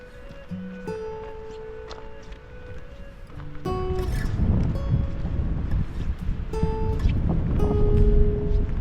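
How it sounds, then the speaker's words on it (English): A Snowdonia waterfall in woodland sends up a steady, broad rushing roar that grows louder and fuller partway through as it is approached, with some faint tonal sounds layered over the water. "Decent bit of water coming down as well."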